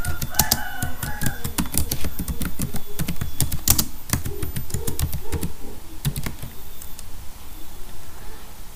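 Rapid typing on a computer keyboard while entering C program code, with dense bursts of close key clicks followed by a brief pause and a few last taps.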